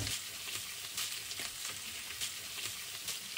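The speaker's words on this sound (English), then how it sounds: "we're just going to brown the broccoli or cauliflower itself" Broccoli or cauliflower browns in oil in a pan, giving a faint, steady sizzle with light crackles and no voices.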